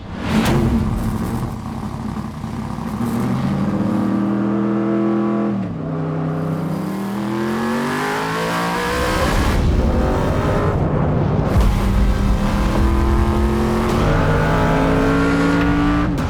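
Big Red, a Camaro race car, drives hard at Big Willow, its loud engine revving up and down through gear changes in a continuous, close roar for the whole stretch.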